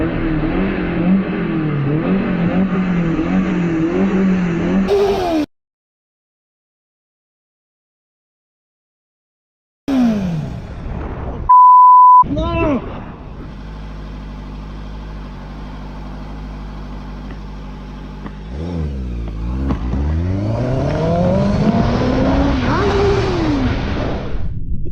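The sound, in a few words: motorcycle loud exhaust revving in traffic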